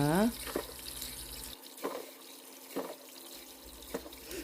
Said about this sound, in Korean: 생강을 물로 흐르는 물에 깨끗이 씻습니다.